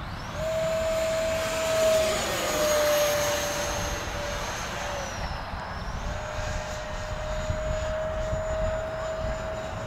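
An FF-117 electric ducted fan RC jet flies overhead with a steady, whooshing high-pitched whine that swells and fades as it passes, over constant wind and outdoor noise.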